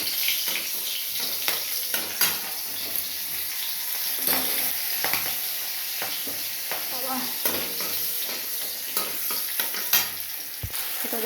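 Green chilies frying with whole tempering spices in hot oil, a steady close sizzle with occasional spatters and the scrape of a stirring spoon in the pan.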